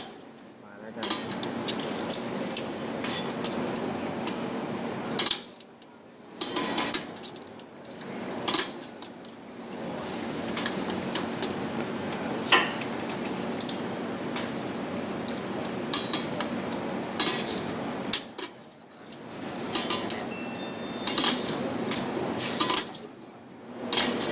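A drum brake shoe adjuster on a car is turned from the back of the backing plate, giving small metallic clicks and ratcheting clinks in irregular bursts with short gaps, close and fairly quiet, while someone talks.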